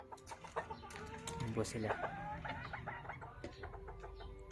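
Serama and labuyo chickens cluck and chatter close by in a backyard coop, a busy run of short calls with someone speaking briefly among them.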